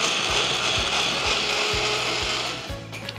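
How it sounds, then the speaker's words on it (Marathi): A kitchen mixer grinds coconut with hot water into a puree, a loud steady whirring buzz with a rough, churning texture that runs continuously and eases off near the end. "आता झाकण लावूयात आणि हे मिक्सरमध्ये याची प्युरी करून घेऊयात."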